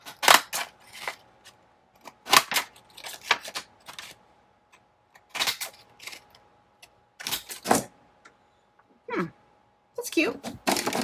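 Decorative scissors cut a wavy, scalloped edge into a sheet of paper, giving short crisp snips in irregular bursts, close and clear, separated by pauses.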